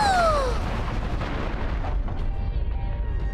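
A sci-fi video game laser fires with a falling electronic whine, then a deep rumbling explosion and fire roar fill the space, loud and sustained with crackling bursts trailing off.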